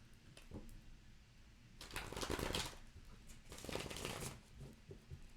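Tarot cards are shuffled in two brisk riffling bursts, close and fairly quiet, separated by soft handling sounds and faint room tone.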